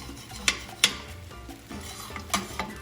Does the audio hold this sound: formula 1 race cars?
no